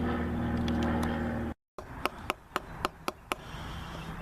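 Hammer blows nail a folded leather knife sheath to a wooden stump, about six sharp, evenly spaced knocks after a brief pause, close and distinct over a steady low hum.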